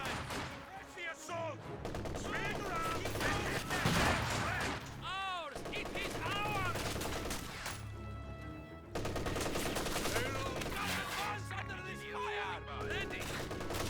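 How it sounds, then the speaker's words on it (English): Soviet Guards infantry rifles firing in Company of Heroes 2, a dense stream of overlapping gunshots and bursts mixed with battle music and in-game effects, loud and continuous for the whole stretch. "Guards firing away."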